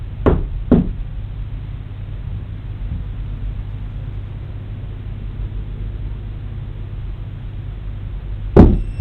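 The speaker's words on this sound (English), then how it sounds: "Can you knock again on the wall like this?" Knocks on a wall of a haunted hotel: two quick raps near the start, a long stretch of low room hum, then one louder knock near the end.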